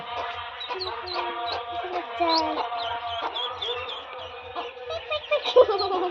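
Ducklings on a duck farm keep up a continuous stream of high, close peeping chirps, joined by softer background voices.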